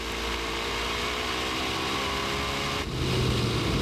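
Onboard sound of an NHRA drag racing car at qualifying, a loud, dense engine roar filling the whole clip, shifting to a lower, steadier drone near the end.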